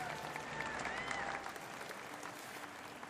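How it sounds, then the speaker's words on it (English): A crowd at a 2019 Department of Defense Warrior Games powerlifting event applauds a U.S. Air Force lifter, a fairly quiet round of clapping that fades toward the end. "Round of applause from the U.S."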